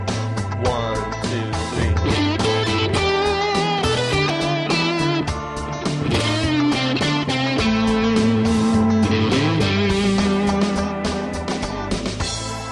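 Blues guitar lick from a turnaround played with a right-hand rake, sounding as dense continuous phrasing over a full backing band, loud and steady throughout without talk.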